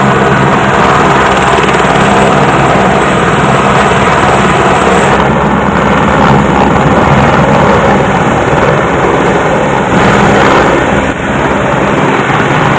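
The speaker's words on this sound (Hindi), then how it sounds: "वहां से एक हेलीकॉप्टर आया" A helicopter roars steadily overhead near Hemkund Sahib, its loud, constant rotor and engine noise filling the whole stretch without any voices.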